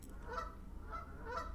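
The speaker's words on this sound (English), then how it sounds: "Goose outside making an absolute racket." A goose honking outside, three loud nasal honks in a slow rhythm over a low steady hum, no talk.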